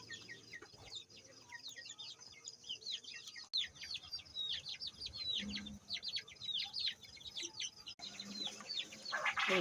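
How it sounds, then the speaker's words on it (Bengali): Desi and broiler chickens kept alongside quail, clucking and chirping continuously in a busy, close flock, with overlapping calls and some faint background rustle. "মুরগি আর ব্রয়লার মুরগি।"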